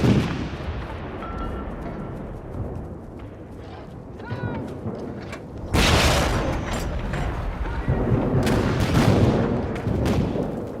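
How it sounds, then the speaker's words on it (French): A World War I artillery bombardment on the Somme, with thousands of cannons firing along the front, producing dense continuous rumbling and booming that swells into heavier, louder barrages partway through. "3000 canons, des plus gros aux plus petits, jusqu'aux roquets, aboient avec frénésie."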